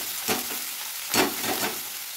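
Hot oil sizzles in a wok as a spatula spreads it around, a continuous close hiss that swells in a few brief surges with each stroke.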